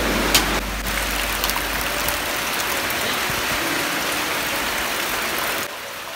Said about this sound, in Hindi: बहुत ज़्यादा बारिश हो रही है